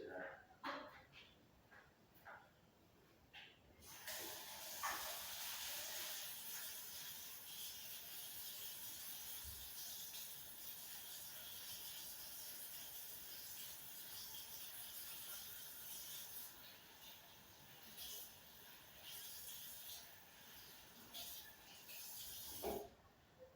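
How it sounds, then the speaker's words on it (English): A water spray rinses off a rocket part, a broad steady hissing rush that starts abruptly and runs continuously with slight fluctuations, a few faint knocks before it begins. "I'm going to rinse this off and then scrub it down too"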